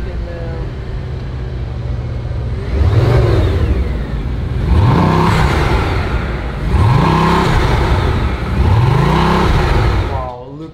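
A Bugatti supercar engine on a dealership lot, started cold for a sound test: four deep revs rise and fall in sequence over a steady idle, loud and close, with people talking around it.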